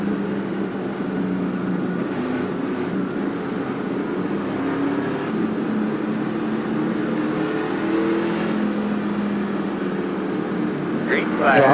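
NASCAR Gander Series race cars at Talladega in the iRacing sim, a steady droning engine roar from a tight pack running nose to tail, with a voice talking over the noise.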